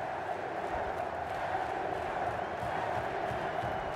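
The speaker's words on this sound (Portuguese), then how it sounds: "O torcedor do Flamengo tenta impor um grito de Felipe agora, mais alto que o grito de Araújo da torcida do Fluminense" Flamengo fans chant Felipe's name inside a stadium during the 2011 Carioca semifinal against Fluminense, a dense and steady crowd roar heard from a distance.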